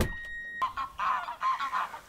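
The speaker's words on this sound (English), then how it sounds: "Grey lag, noisy grey lag geese." Noisy greylag geese give several loud, nasal honks in quick succession, close by, while more geese come and go around them.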